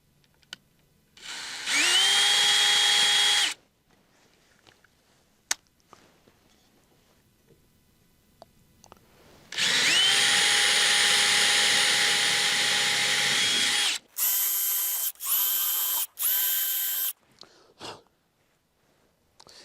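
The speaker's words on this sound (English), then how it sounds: "I'm going to make sure I drill this plywood off the lift gate so I don't try to drill through steel." A power drill bores through plywood laid over a steel lift gate in two long whining bursts, then three short ones. Quiet gaps and small knocks separate the runs.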